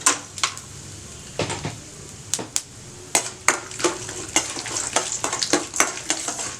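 Peanuts and cashews fry in a pan, crackling and sizzling beneath repeated sharp scrapes and taps of a stirring spoon, close and moderately loud.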